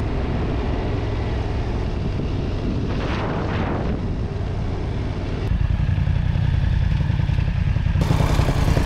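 A motorcycle rides the old cobbled road up the Saint-Gotthard pass in the Alps, its engine a steady loud rumble mixed with heavy wind buffeting, the engine note rising in roughness partway through.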